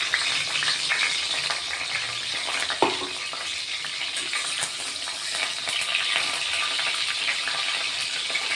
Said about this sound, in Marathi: थोडा हिंग टाकलाय, तेलात हिंग टाकायचा, छान सुगंध येतो त्याचा.